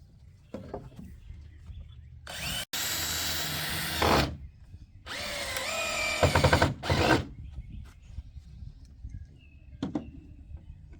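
A power drill drives 2-inch wood screws into wooden bed slats in two loud, whirring bursts of a couple of seconds each, with quiet handling clicks and knocks in between.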